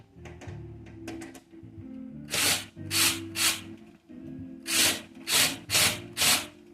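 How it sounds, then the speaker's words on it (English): A power drill whirs in short, repeated bursts as it drives a screw into the wood of a planter, close by with no talking. "I will take my power drill and tighten it."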